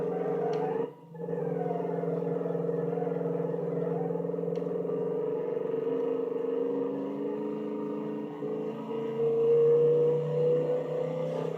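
A V8 engine in a video game driving a 1963 muscle car, the Armor Motors Brier GT, drones steadily at moderate volume, with a brief dip early on and a swell toward the end.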